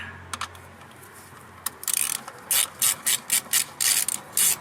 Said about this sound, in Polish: Nasadkową ósemką odkręcamy te cztery śruby.